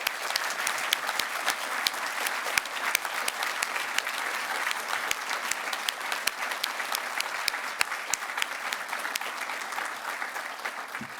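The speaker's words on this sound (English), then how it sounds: "let's have a round of applause from our graduates and the staff" Graduates and staff at a Birkbeck graduation ceremony clap in sustained, dense applause filling a large hall, steady and fairly loud from start to finish with no speech over it.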